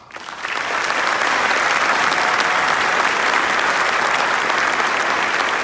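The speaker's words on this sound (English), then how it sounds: "A round of applause for Chief Christian Demon." Loud, sustained applause from a large audience at a police recognition ceremony honoring the chief, swelling quickly from a soft start into a thick, even roar of clapping that holds steady.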